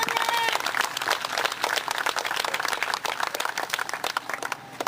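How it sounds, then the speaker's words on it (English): A crowd at a rally against violence applauds, dense clapping close and continuous, fading slightly toward the end, with no clear speech over it. "all of you who are present here today ought to give yourself a round of applause"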